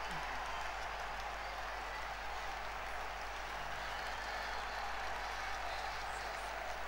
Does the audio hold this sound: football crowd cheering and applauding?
yes